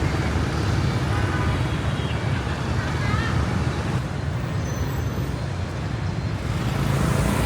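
Heavy road traffic in Hanoi: a dense, steady roar of cars, buses and motorbikes, loud and continuous throughout, with wind-like rush and no clear talk.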